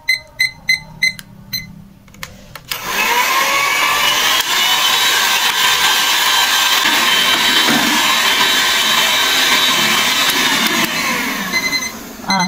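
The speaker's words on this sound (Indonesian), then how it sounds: "Ini kita mixer speed tinggi sampai putih kental berjejak." A few sharp timer beeps come first, then an electric mixer starts up on high speed, beating brownie roll cake batter until it is thick. Its loud, steady whirring hum runs unbroken to the end, with no voices.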